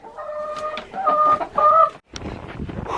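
Chickens cluck and chatter nearby at an off-grid cabin in below-zero, snowy weather, in short repeated calls, followed by a brief pause and softer rustling.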